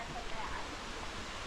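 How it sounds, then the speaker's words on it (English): A waterfall on a creek trail near bluffs gives a steady, soft rushing wash at a moderate distance, with faint talk mixed in. "So close to the bluffs is the waterfall."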